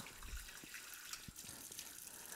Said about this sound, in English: First thing is take off the cap here, rinse it out.